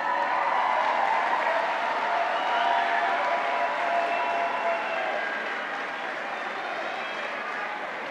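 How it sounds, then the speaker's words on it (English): A graduation audience at a high school commencement applauds, a broad, even wash of clapping that stays loud and gradually eases toward the end without breaking off. "give them a round of applause"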